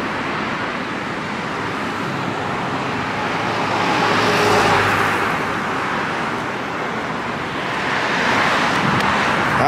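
Strong wind roars beside a road in Japan, rising and falling in broad gusts over a continuous wash of passing traffic noise.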